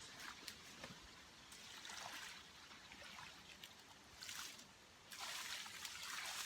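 Fresh rainwater trickles and splashes onto the soil around a newly planted hydrangea macrophylla outdoors, a soft continuous pouring that swells in uneven surges.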